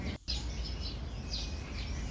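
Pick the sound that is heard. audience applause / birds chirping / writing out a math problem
birds chirping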